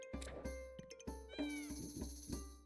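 Cat meows during a Backpack Battles game, a few short plaintive cries over steady chiming game tones, with faint background voice.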